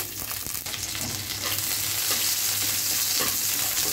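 Onion and chili frying in a pan, a steady close sizzle with occasional stirring scrapes, continuous and fairly loud throughout, no voices.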